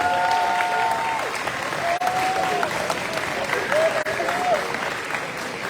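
A crowd at a high school athletic banquet applauds the seniors, sustained dense clapping throughout with a few cheers and whoops rising over it.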